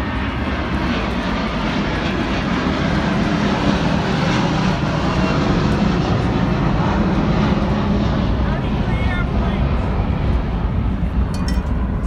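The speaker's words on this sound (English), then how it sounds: "Every time a plane comes," An airplane passes overhead at an outdoor protest outside an immigration detention center in Elizabeth, New Jersey, a loud continuous engine roar filling the whole stretch, with crowd voices mixed underneath.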